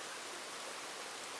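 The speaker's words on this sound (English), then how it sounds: "Obviously the waterfall here" A waterfall beside a hiking trail, set among hanging moss and grass, gives off a steady, soft, even wash of falling water that stays fairly faint and unbroken throughout, with no voices.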